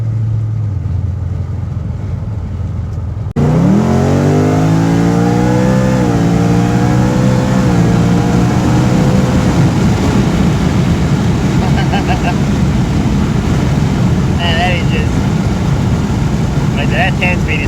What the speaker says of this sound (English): I love the way it shifts. RPM just barely drop down on every gear change.